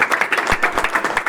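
Audience applause at a company gathering in India, a rapid, even run of hand claps from a group, moderately loud and close, with no talking over it.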